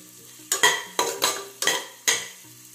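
Chopped onions fry in a pan while a spatula scrapes and tosses them in five or six distinct strokes over a low, steady sizzle.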